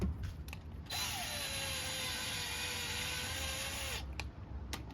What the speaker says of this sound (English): I'm using just a drill with an attachment